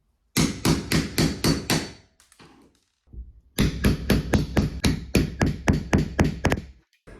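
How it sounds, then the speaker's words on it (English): A hammer strikes a chisel to knock rivets off steel racking, with two bursts of sharp, evenly spaced metallic blows, each about six to ten hits, separated by a brief pause. "I could just be using a hammer and a chisel, and it comes away with about 3 swift hits"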